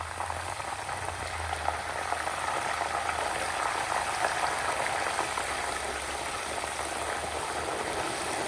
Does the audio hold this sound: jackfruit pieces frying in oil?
yes